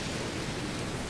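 Steady rain falls in Ninja Gaiden 2 Sigma, a dense, even hiss of downpour that holds constant and fairly loud throughout, with no voices over it.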